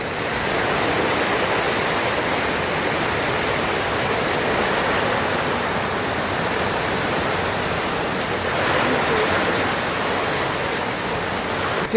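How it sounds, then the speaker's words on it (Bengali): Heavy rain pours in a dense, unbroken wash of noise, steady and loud throughout with no voices. "প্রচুর বৃষ্টি হচ্ছে দেখো বন্ধুরা।"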